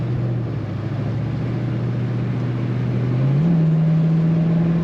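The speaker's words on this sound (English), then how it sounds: "there is expected wind noise from this convertible top" Steady broadband rush of wind over a moving 1967 Ford Mustang convertible with its top up, with a low engine drone that rises in pitch near the end.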